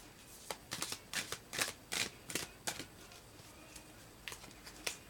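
A new tarot deck being shuffled by hand, a run of crisp riffling card bursts in quick irregular rhythm, close and fairly quiet, with no talking.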